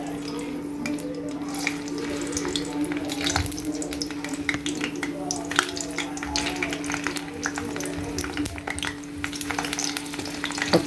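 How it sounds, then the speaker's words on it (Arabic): Eggplant frying in hot oil in a pan, a steady soft sizzle with scattered crackles and pops, with a faint constant hum beneath and no talking. "اول ما الزيت يبدا يسخن هنبتدي ننزل نقلي البدنجان فيه"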